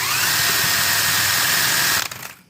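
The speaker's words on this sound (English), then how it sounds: "you might need a big enough drill." A 3/8 power drill driving a Chevy oil priming tool whirs loudly and steadily, then winds down and cuts off near the end.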